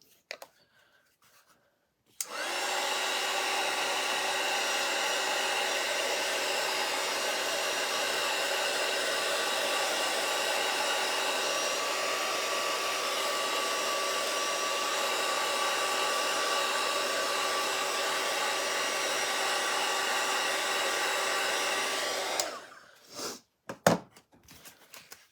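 Hair dryer drying paint on a piece of artwork, switched on after a couple of seconds, blowing with a loud steady whirring hiss for about twenty seconds, then switched off, followed by a few faint handling clicks.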